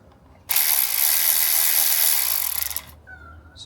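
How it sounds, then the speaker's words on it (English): A 3/8 ratchet being turned during a coil pack install on a VE SSV Ute gives a close, continuous rapid buzz of pawl clicks for about two and a half seconds, then stops. "So I've got this 3/8 ratchet."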